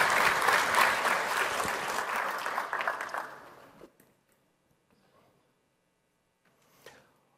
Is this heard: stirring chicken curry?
no